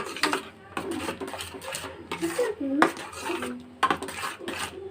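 A spoon scrapes and clinks against a pan as halwa is stirred, giving irregular metallic knocks and scraping strokes at close range with short pauses between them.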